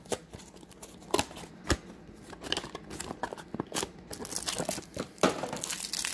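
A foil trading-card booster pack from a Double Masters VIP box being torn open: crinkly, papery rips and crunches in uneven bursts, close and fairly quiet, with no talk.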